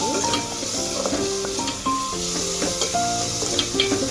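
Sliced onions sizzle steadily as they hit deep-frying oil in a pan, a constant close hiss with light stirring, while a soft melody plays underneath.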